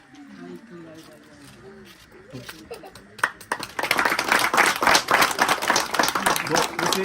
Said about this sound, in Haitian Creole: Et maintenant, de nous applaudir.